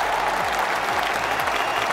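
The Lord's cricket crowd applauds Yuvraj's century, with steady, dense clapping from a large gathering running throughout without a break.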